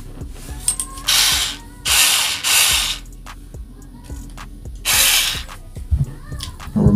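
Screws being turned with a small screwdriver while a Samsung M.2 2TB SSD is fitted into a PS5, giving bursts of loud, close ratcheting clicks separated by quieter taps and handling noise.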